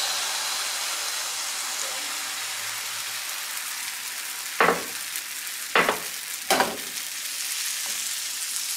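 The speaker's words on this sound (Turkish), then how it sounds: "Tavamız ısındı. Tekrar ikinci hamurumuzu da koyuyoruz." Dough frying in a hot pan gives a steady, fairly quiet sizzling hiss throughout, broken by three short, sharper crackling bursts in the middle.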